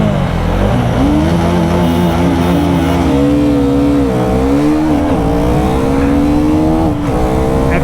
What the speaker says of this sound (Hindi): बहुत जल्दी लिमिटर मार रहा है KTM का